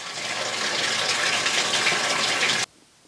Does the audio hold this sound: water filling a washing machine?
yes